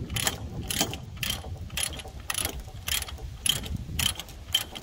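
A ratchet load binder being cranked to tighten a chain securing a 9,000-pound mini excavator, giving a steady series of close mechanical ratcheting clicks in bursts with no talking.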